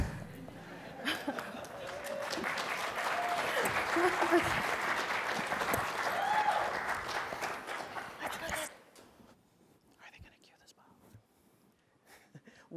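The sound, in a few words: audience applause during a standing ovation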